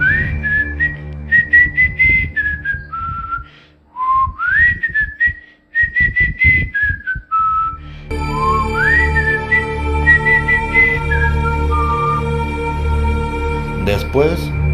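A clay flute plays in a forest, its clear, breathy melody rising and falling in short phrases with pauses, near and fairly loud over a steady low background.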